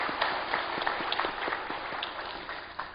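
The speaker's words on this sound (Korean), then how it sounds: "우리 박수 한번 해줍시다" A church congregation applauds the choir after a worship service, steady crowd clapping with dense, overlapping hand claps sustained throughout at moderate volume, with no talk over it.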